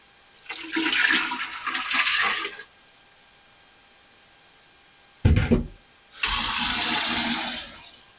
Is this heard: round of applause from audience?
no